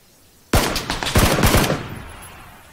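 After a quiet moment, a sudden burst of PUBG gunfire erupts: several loud, close shots in a rapid, uneven cluster, followed by a lingering, decaying echo.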